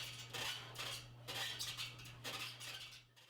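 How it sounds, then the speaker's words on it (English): A tilted weight rack in a basement squeaks faintly in repeated swells over a steady low hum, with metallic scraping and no voices. "I know you can hear that squeaking in the background from the"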